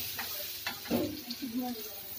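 Garlic frying in oil in a pan gives a soft, steady sizzle with light stirring and a few scrapes, while a voice speaks briefly over it.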